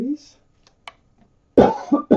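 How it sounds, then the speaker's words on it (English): A woman gives a short, close burst of coughing after a quiet pause, in a few quick hacking bursts, with speech just before it. "Excuse me, famous cough."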